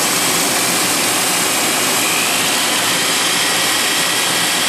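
A drill motor drives a rotary table as it cuts a round graphite mold, giving a loud, steady, unbroken motor whine and cutting roar that holds constant throughout with no pauses or voices.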